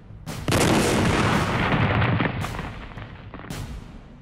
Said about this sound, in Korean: 거대한 폭발음과 함께 행사장은 아수라장이 되었고